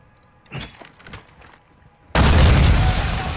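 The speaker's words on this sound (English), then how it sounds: "Okay, this is grenade time." A grenade blast in Call of Duty: Modern Warfare 2 hits suddenly as a loud, full-band boom with a sustained roaring rumble. Before it come a few faint scattered clicks and pops.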